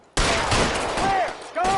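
Dense burst of gunfire from the LA Noire video game, a loud sustained volley of shots starting abruptly and running almost continuously, briefly thinning before another sharp round, with faint game effects underneath.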